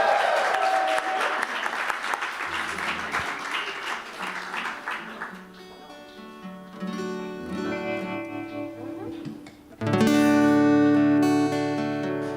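An audience at a live music night applauds and cheers for the opening band, a dense wash of clapping and shouts that thins out before the band kicks in loudly near the end.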